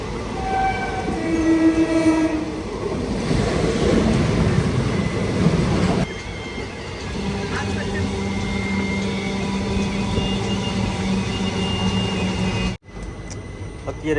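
An Indian passenger train rolls along the line, heard from inside with a loud rumbling clatter, horn-like tones sounding early and a sharp cutoff near the end.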